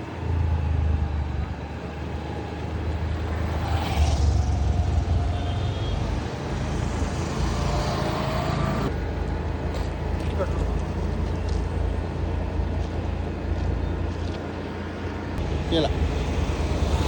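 A car drives through evening city streets in Yavatmal, its engine and road rumble forming a steady broadband drone with passing traffic noise and wind, while voices talk over it.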